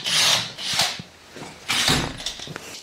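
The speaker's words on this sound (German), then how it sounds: "Also schrauben wir die hier jetzt erstmal los." Clutch cover screws on a Bombardier DS 650 ATV are being loosened with a hand tool, giving intermittent scraping and ratcheting metallic bursts close up with short pauses between.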